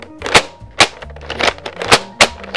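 Nerf Warden foam blaster with worn, failing internals firing five sharp plastic snaps at uneven intervals, each shot a loud close crack with a short rattling mechanism noise between them.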